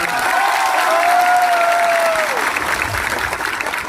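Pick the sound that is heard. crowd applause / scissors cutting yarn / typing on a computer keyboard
crowd applause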